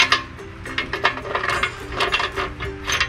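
A ratchet wrench clicks in quick bursts while an O2 sensor is tightened and loosened on the exhaust of a Suzuki Wagon R Stingray MH23S, close and fairly loud with short pauses between strokes.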